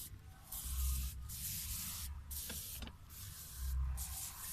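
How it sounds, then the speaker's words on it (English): Liquid organic fertilizer sprayed onto thyme plants on a Jamaican farm in St. Elizabeth, a steady hissing spray running continuously with brief pauses and surging bursts, fairly close. "he's using the liquid organic fertilizer to spray it"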